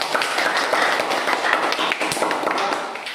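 A group claps steadily, dense and fairly close, thinning out toward the end.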